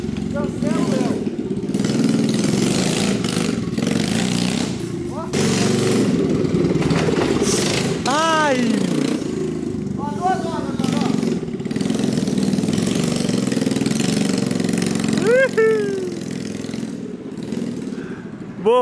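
A mini quad bike's small engine cranks, catches and settles into a steady buzzing idle, loud and close throughout, while excited voices talk over it.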